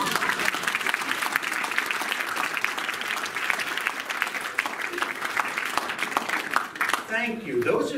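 A theatre audience at a mentalism show breaks into a thunderous round of applause, dense steady clapping filling the room near and loud, tapering briefly near the end.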